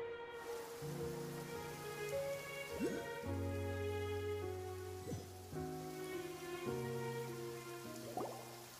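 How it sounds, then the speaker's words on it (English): Steady rain falls in the video game Genshin Impact, a soft continuous patter under gentle sustained music notes, with no speech. "It's been raining non-stop for a few days now."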